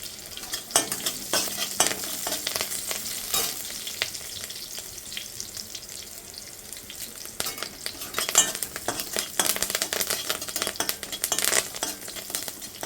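Green chillies and curry leaves sauté in a hot pan for a pepper chicken dish, a steady sizzle and frying crackle running throughout with repeated stirring scrapes and occasional utensil clinks, close and fairly loud.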